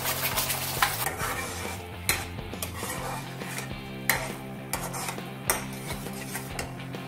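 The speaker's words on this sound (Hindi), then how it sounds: "जो मिक्सी में हमने मसाला बारीक किया था, प्याज टमाटर का, उसे भी ऐड कर देते हैं।" Ground onion-tomato masala paste fries in butter and oil for a mixed vegetable sabzi, sizzling steadily while a spoon stirs and scrapes the pan in repeated knocks.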